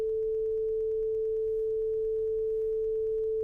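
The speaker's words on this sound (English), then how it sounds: "here I have a sine wave." A steady pure sine wave test tone encoded at 16 bits holds one unchanging pitch for several seconds, clean and constant with nothing else present.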